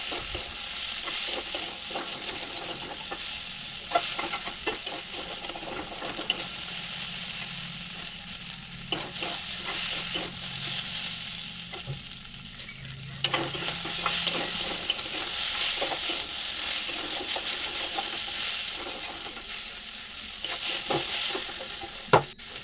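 Steady sizzling of taro stolons and crab frying in a pan, with occasional scraping and stirring clicks throughout.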